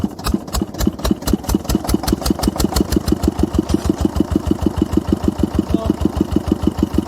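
A motorcycle engine fires up and settles into a steady, loud, close idle with a rapid even thumping pulse throughout, no talk over it.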